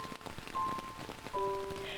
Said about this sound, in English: The rain came soon after.